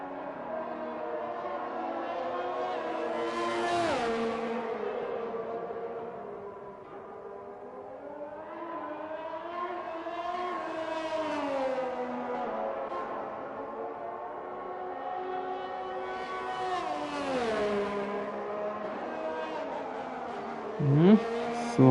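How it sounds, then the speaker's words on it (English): Haas Formula 1 car from F1 21 on a hot lap at the Hungary circuit, a high engine whine rising and falling through gear changes and corners, steady and fairly loud, with commentary talk over it. "Here's a look at the Haas of Stuart McDonald, just starting his second hot lap."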